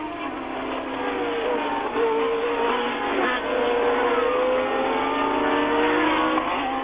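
Renault Formula 1 cars racing at the Dijon circuit in 1979, a sustained high-pitched engine wail under a steady roar, holding loud and continuous with a rising pitch sweep partway through.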